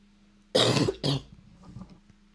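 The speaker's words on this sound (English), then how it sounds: "This cough is slowly clearing up." Two harsh coughs in quick succession, close and loud, followed by quieter breathy rustling.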